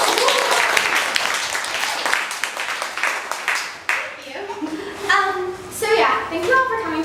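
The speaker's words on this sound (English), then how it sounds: "Let's all give her a round of applause." An audience claps loudly and steadily for a senior project presenter; the dense clapping thins out partway through and gives way to murmuring voices and scattered claps.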